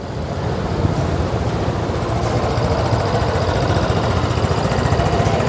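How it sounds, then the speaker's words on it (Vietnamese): Vespa 946 Dragon edition scooter engine running after starting, a steady close idle with a dense low rumble and faint mechanical ticking, holding an even level throughout with no talk. "Phiên bản Vespa rồng chính thức nổ máy."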